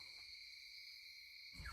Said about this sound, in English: Nice little nighttime sounds,